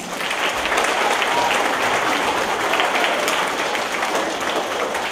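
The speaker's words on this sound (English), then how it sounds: "Let's give Mr. Wheeler a round of applause." Audience applause at a school event, a dense, even roar of many hands clapping that stays loud and steady throughout, with no voices standing out.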